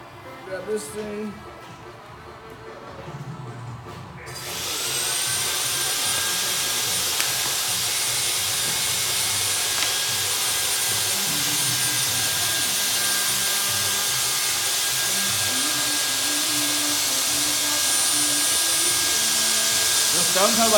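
A diamond-stone hone grinds steadily and loudly inside a 7-1/16 part, scraping off debris and rust in a continuous whirring rasp that follows a few seconds of quieter handling noises.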